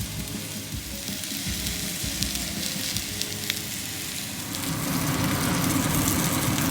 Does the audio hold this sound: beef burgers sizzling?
yes